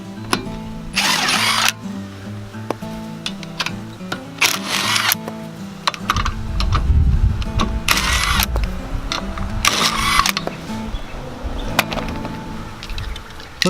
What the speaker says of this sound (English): We've got a rattle gun, makes life easy.